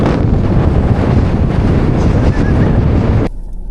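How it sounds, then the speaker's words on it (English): Strong coastal wind at Kalbarri, Australia, buffets the microphone with a loud, constant roaring rumble that suddenly drops off near the end. "absolute whiplash with the wind there"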